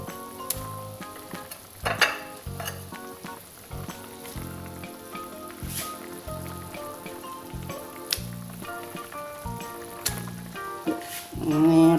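White snapper fish head frying in a pan, a continuous crackling sizzle with occasional stirring knocks, heard under background music.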